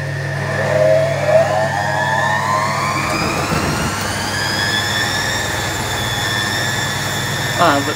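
A Servis Quartz MK600 washing machine on a silks 30°C program spins up toward 600 RPM, a steady motor whine climbing in pitch over a low drum hum, with a brief knock near the end.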